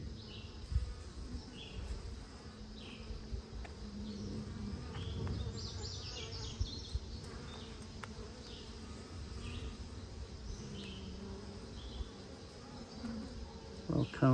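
Honey bees buzz continuously around rescued hives, a close, steady droning hum with occasional louder passes near the listener and soft faint background talk.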